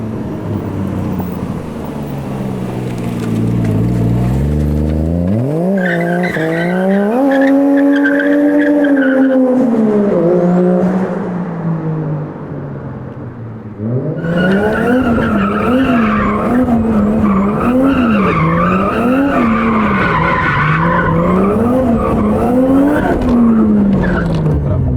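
A Nissan Silvia S14 with a 1JZ engine swap revs hard and drifts at night in São Paulo, the engine note rising and falling through long, loud slides as the tires squeal continuously.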